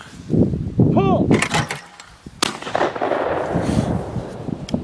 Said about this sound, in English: I'm gonna pull for him and he's gonna shoot